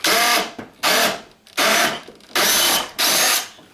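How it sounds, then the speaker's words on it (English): A power drill runs in five loud, close bursts while dismantling a guitar amp, each revving up for about half a second before stopping, with brief quiet gaps between. "And that nut fits perfectly in my drill."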